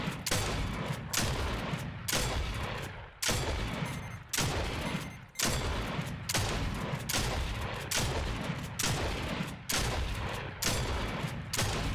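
Gunfire from the Fortnite video game, including a shotgun, on a creative map. It comes as loud, repeated bursts of shots about every second, with brief gaps between volleys and no speech.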